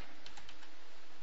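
Keystrokes on a computer keyboard while a command is entered on a Windows PC, a few light clicks spread over about a second, faint and close with no talking.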